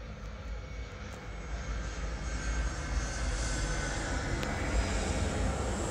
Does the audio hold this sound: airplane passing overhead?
yes